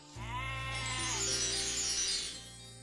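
A cartoon sheep lets out one long, loud bleat that wavers and fades after a couple of seconds, heard close and alone.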